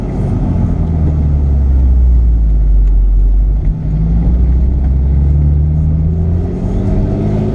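2017 Porsche 911 Carrera 4S Cabriolet engine drones loud and steady as the car drives, with rising and falling engine tone and a brief dip midway, heard close with no talking.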